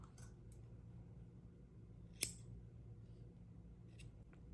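Scissors snip through yarn ends on a hand-knitted backpack, a single sharp crisp cut standing out over quiet room noise, with a few fainter soft clicks around it.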